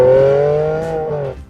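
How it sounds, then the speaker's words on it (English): A Ferrari Enzo's V12 engine revs with a strong, steady, rich tone that sags slightly in pitch before cutting off abruptly near the end. "What are you supposed to listen to? That V12?"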